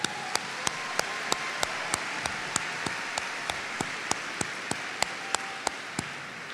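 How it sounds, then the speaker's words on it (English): Sparse, slow applause at a 2016 community college commencement ceremony: single sharp claps spaced about a third of a second apart, fairly faint and steady, with no talking over them. "Let's applaud for them."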